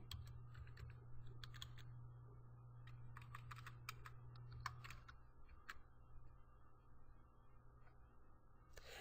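Someone types on a computer keyboard at a point-of-sale inventory station, short bursts of quiet clicking keystrokes separated by pauses over a low steady hum.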